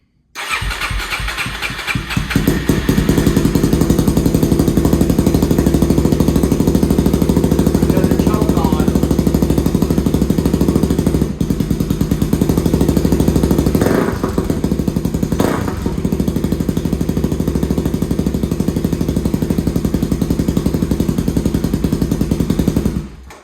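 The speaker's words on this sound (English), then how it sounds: "And let's see if this thing fires up." A Suzuki DRZ400SM motorcycle fitted with a clone FCR39 carburetor cranks and fires up, then settles into a loud, continuous, close-up engine roar with a few brief revs partway through.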